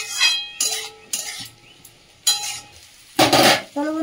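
Fried vegetables, chicken, prawns and egg being stirred in a pan, with several separate loud metallic scrapes and clinks of a utensil against the pan, spaced by quieter gaps.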